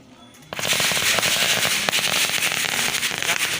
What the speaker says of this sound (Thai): พี่น้องจะได้ยินเสียงประทัดเลย